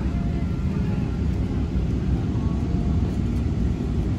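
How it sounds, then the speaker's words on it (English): Steady, loud low-frequency roar of an airliner cabin in flight from Amsterdam to JFK, a continuous broadband engine and air rush with no breaks, heard alone without talk. "Here we are on the second flight of the day, this time from Amsterdam to JFK Airport."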